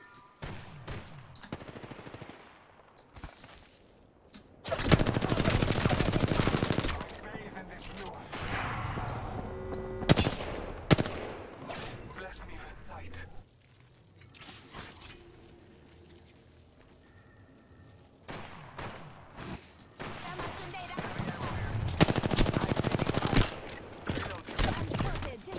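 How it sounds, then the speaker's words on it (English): Gunfire in the video game Apex Legends comes in loud, dense bursts of rapid automatic shots with short pauses between volleys, close and dominant, with brief speech in the gaps. "Laying down cover fire."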